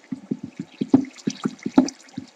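Flowing water in the Minecraft video game burbles in a steady run of soft, rhythmic gurgles and splashes, close and alone with no talk over it.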